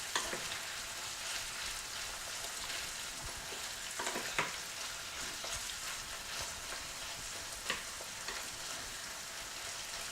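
Already-fried shrimp being stirred into a hot frying pan while cooking Chinese fried rice, a constant sizzle with occasional clinks and scrapes of the utensil against the pan.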